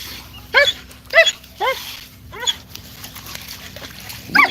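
A dog barks several times in short, sharp yelps at irregular intervals, close by and fairly loud.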